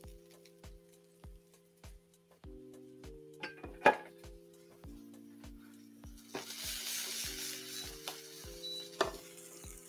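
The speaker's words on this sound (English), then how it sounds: "You hear the sizzle?" Butternut squash soup dish cooking in a kitchen, a soft steady sizzle of frying that swells in the second half, with clinks of utensils and pans and a rhythmic background beat throughout.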